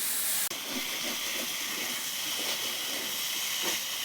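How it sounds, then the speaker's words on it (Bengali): Eggplant fries in hot oil over a wood fire for a neem and eggplant dish, giving a loud, steady, close sizzling hiss that softens briefly after a sharp break near the start. "এই যে কাঠের জালে নিম বেগুন ভাজা হবে বেগুন ভাজা হচ্ছে"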